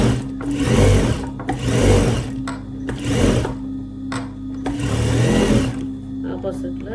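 A sewing machine stitches fabric in several loud, close whirring runs of a second or so each, broken by short pauses, with a person talking over and between the runs.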